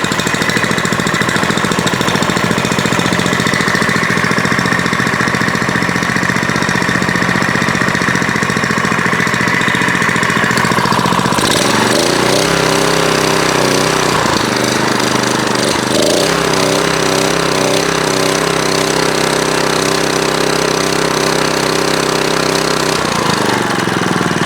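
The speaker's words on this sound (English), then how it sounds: "You can still hear that engine running in the background" A Kawasaki small engine, just rescued from the junk pile after a stuck carburetor, runs steadily with a rough, chattering mechanical drone that continues throughout. It shifts character partway through, growing busier and denser while staying loud.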